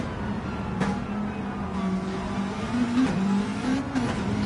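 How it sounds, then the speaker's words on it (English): A rallycross race car in a WRX Challenge race slides around dusty, muddy corners, its engine droning steadily with rising and falling revs and sharp bursts of tire and gravel noise, no voices. "Just putting that front wheel on the mud, letting the back end slide around the dust."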